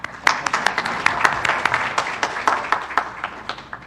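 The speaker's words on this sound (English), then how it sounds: "So applaud yourself." Audience at an evening community meeting applauds, a steady scatter of moderate handclaps from a modest crowd lasting a few seconds, slightly distant in a room.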